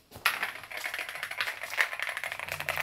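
Rapid typing on an EPOMAKER Shadow-S retro-styled mechanical keyboard, a dense close-up stream of clacky keystrokes with occasional heavier thocks, continuous and alone for nearly three seconds.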